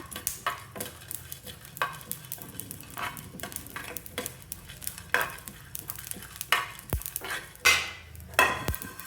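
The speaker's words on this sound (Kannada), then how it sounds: "ಬೇಳೆ ಜೀರಿಗೆ ಇವಿಷ್ಟು ಗ್ಯಾಸ್ ಮೇಲೆ ಕಾವಲಿ ಇಟ್ಟು ಹುರ್ಕೊಳ್ತಾ ಇದ್ದೀನಿ" Chana dal, cumin and coriander seeds dry-roast in a pan on a gas stove. A utensil repeatedly scrapes and stirs, making a rhythmic gritty rattle over a faint sizzle.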